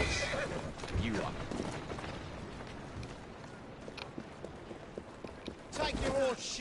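A horse in Assassin's Creed Syndicate whinnies a couple of times, with the calls near the start and end, over clopping hooves and steady game ambience, while a voice talks over it.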